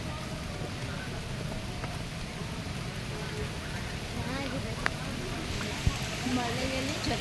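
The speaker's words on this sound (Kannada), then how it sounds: "ನೀರು ಮಳೆ ಚೆನ್ನಾಗಿದೆಯಾ?" Steady rain falls in Karwar during a boating outing, a dense continuous patter with a few sharper drops, while people talk over it throughout.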